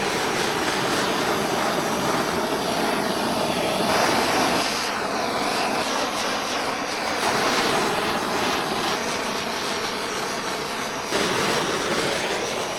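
A propane torch flame roars steadily and loudly at close range while heating an older camper's plastic propane cover, a continuous broadband rush with slight surges as the flame moves.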